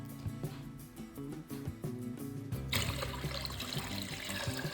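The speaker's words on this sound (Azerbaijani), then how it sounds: "əvvəlcədən qaynadıb soyutduğum 3 litr suyu əlavə edirəm" Boiled and cooled water is poured into a jar for brining cheese, a continuous close liquid pour that deepens into a fuller gush partway through, with no talk.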